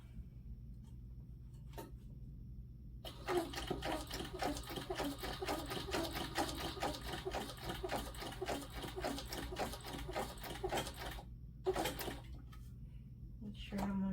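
Industrial sewing machine stitching a quilted vinyl panel for bag making, a fast steady rattle running for about eight seconds between quieter pauses, close by, with faint handling noises around it.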